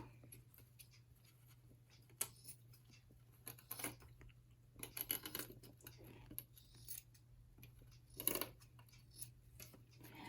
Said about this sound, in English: And then I'm going to trim that little bit of excess off.